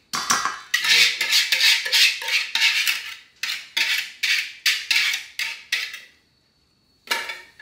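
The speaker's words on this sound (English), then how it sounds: "I'm gonna add all the liquid and just keep mixing it." A utensil clatters rhythmically against a bowl while liquid is mixed into blueberry muffin batter. The scraping strokes are close and loud and come in quick regular bursts, with a brief pause before the mixing resumes.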